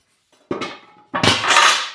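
Metal cooking cauldrons, sized for a wood-fired stove, clanging as they are set down and handled: a sharp metallic bang, a brief lull, then a second heavy clatter with ringing scrapes that carry on to the end.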